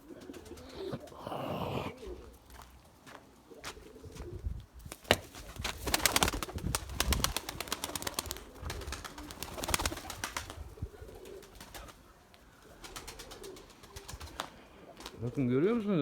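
Limoni breed pigeons coo softly in a loft, low rounded calls recurring through the stretch alongside rustling, shuffling and occasional wing flaps, with scattered clicks and background noise.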